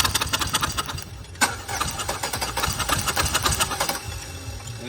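A four-cylinder car engine runs at a steady idle during a compression test, with the plug removed from cylinder four, and keeps going after the relay is pulled, with a sharp knock near the start.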